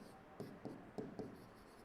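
A pen scratching an answer onto paper during a Class 7 integers maths exercise: four short, faint strokes in quick succession against a quiet room.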